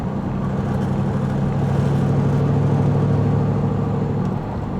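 Rebuilt Porsche Cayenne S cruising on the road, a smooth continuous engine hum and tyre rumble heard from inside, steady and moderate throughout.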